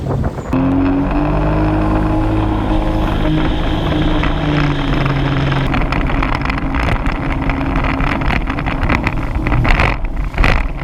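A loud, steady engine roar of a 2003 Sea-Doo GTX Limited 185 personal watercraft cruising continuously over water, with heavy wind buffeting the microphone throughout.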